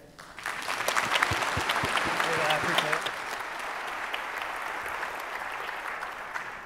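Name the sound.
audience applause welcoming a conference speaker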